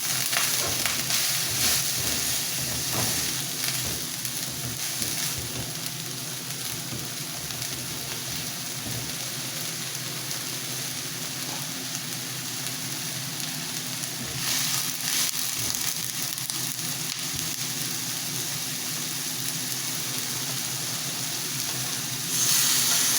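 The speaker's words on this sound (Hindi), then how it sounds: "दूसरी साइड पे जो ये हमारा प्याज फ्राई हो रहा है" Onion and eggplant frying in a pan for dahi baingan masala, a steady broad sizzle with crackling pops running throughout, close and continuous, with a few brief louder surges.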